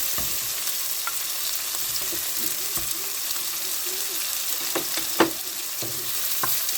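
Masala for fish and crab curry sautéing in a pan, a constant bright sizzle broken by scraping spoon strokes and a few sharp knocks against the pan.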